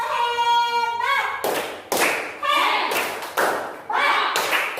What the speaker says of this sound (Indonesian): Berikan tepuk hebat untuk kelompok kedua. Tepuk hebat.